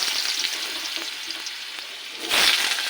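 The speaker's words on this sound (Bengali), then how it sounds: "কড়াইতে তেল দিয়ে দিয়েছি, এবার আলুগুলো ভেজে নেব।" Potatoes fry in hot oil in a wok, giving a steady crackling sizzle that swells into a louder burst near the end, with no talking.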